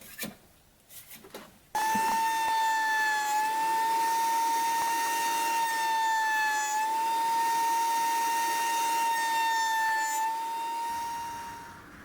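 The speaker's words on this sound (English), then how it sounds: "I'm going to use a paint scraper to gently pry up this board, which will flip over and then run through the planer." Thickness planer flattening a wooden tray blank: a short burst of quieter clatter, then a loud, steady, droning whine that holds for about nine seconds before tapering off, with no voices.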